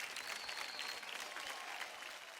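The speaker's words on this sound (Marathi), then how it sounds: "एकदा जोरदार टाळ्या होऊन जाऊ दे आपल्या प्रतीकसाठी" Steady applause from a studio audience at a Marathi televised dance competition, clapping for a dancer; dense, even clapping that holds throughout at a moderate, slightly distant level with no talk over it.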